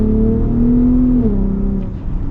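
A 2021 Ford F-150 Raptor, third generation, in automatic mode, revs loudly and close: a steady engine drone climbs in pitch, holds, then eases back down.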